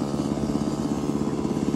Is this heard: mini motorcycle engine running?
yes